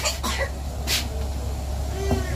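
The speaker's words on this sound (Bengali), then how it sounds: "কাশি হচ্ছে।" A sick child coughs indoors: two short, harsh bursts close by in the first second, then low room noise with faint household sounds.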